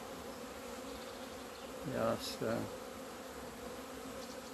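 A simple honeybee colony hums in a hive in February during a frame inspection, a faint steady drone under brief close handling noises and someone speaking quietly.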